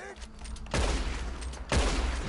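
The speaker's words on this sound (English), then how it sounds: "Straight up, my bullets weren't going through him." Gunfire in Red Dead Redemption 2, heard as two heavy bursts of shots about a second apart, loud and close over a low game rumble.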